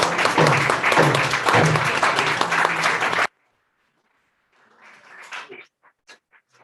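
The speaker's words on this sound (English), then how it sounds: "A round of applause for him" Dense applause from an audience at a book presentation, loud and close for about three seconds, then cutting off abruptly to silence before a few faint scattered sounds return.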